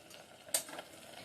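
Pav bhaji vegetables being sautéed in a pan, with a quick spatula scrape and clink over faint sizzling, close and fairly quiet.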